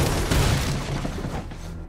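Gunfire in the PS4 video game Spider-Man comes as a dense, rumbling volley of rapid shots and booms, loud and continuous over a short burst.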